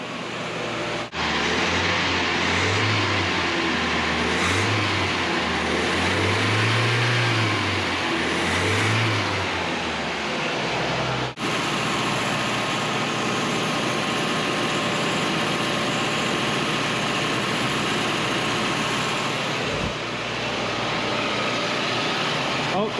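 A rebuilt 1985 Nissan 720 engine idles steadily right after its first start, a loud, continuous low rumble with a few rhythmic surges early on, and a person talks briefly over it.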